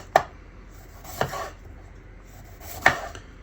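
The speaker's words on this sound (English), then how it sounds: "It's the easiest way to cut up pepper." Bell peppers being cut with a sharp knife make three sharp, separate chops against a board, close and clear over a quiet background.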